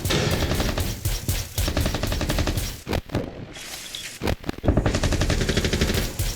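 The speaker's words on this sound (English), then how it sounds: "Just getting a lot of damage off of these Meister cannons." Meister cannons in a team shooter match pour out rapid continuous automatic fire, dense loud bursts with a couple of brief pauses between volleys.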